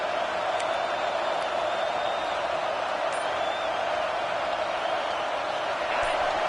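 Steady roar of a stadium crowd in a college football video game, fourth down in the third quarter, a dense continuous wash of noise at even loudness with faint higher calls on top, under a commentator's voice.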